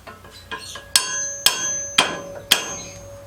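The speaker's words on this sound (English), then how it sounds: "give it a gentle tap" Garden fork head being tapped gently onto its tapered wooden handle: four sharp, evenly spaced knocks about half a second apart, each ringing with a metallic tone, preceded by a few softer taps, close and alone.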